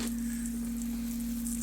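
Eggs fry in a smooth cast iron pan outdoors, seasoned with salt and pepper, giving a steady close sizzle over a constant low hum.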